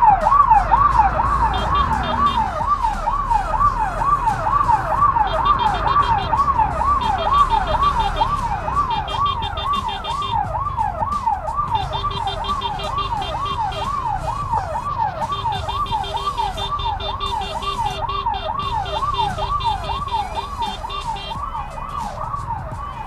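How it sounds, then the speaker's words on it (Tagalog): An ambulance siren wails steadily in traffic, its rising and falling tone cycling continuously and loudly for the whole stretch, with the hum of cars and road noise underneath. "Tinutulungan natin yung ambulansya."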